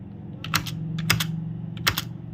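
Keys clack on a computer keyboard while text is typed into MS Word, a few quick clusters of close, crisp taps over a low steady hum.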